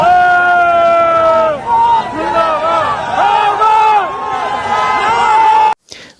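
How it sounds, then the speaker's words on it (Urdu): A large crowd at a night political rally in Samrial chants slogans as an army truck passes, loud sustained massed voices rising and falling in repeated rhythmic cries close by, cutting off abruptly near the end. "وہاں پر جب آرمی کا ٹرک گزرا تو آپ نعرے خود سن سکتے ہیں"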